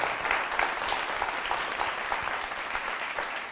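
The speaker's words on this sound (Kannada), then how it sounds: "ಹೌದು ಹೌದು, ಬರಲಿ ಒಂದು ಚಪ್ಪಾಳೆ" Studio audience at a singing reality show breaks into sustained, even applause, a dense wash of many hands clapping at a steady level throughout.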